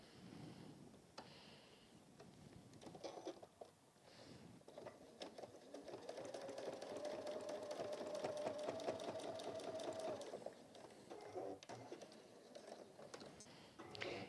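A sewing machine runs steadily, top stitching a fabric scrunchie, its rapid mechanical chatter building to a sustained hum in the middle before easing off, with a few handling knocks and no talk.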